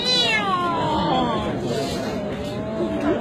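A voice imitates a cat meowing, producing one long, drawn-out meow that slides downward in pitch, loud and close.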